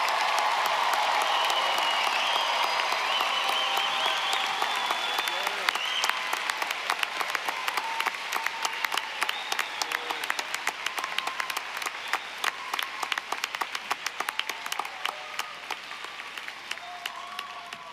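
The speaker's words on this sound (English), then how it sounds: "Can we have a big round of applause for the class of 2026?" Sustained applause from a large commencement crowd for a graduating class, a dense steady wash of many hands clapping that builds into sharper, more distinct claps toward the end.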